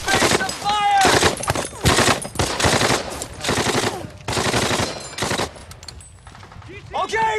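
Machine gun fire in a Lego war film set at Normandy 1944: loud, repeated bursts of rapid automatic shots, with voices shouting between the volleys.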